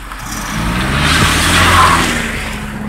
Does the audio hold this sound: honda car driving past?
yes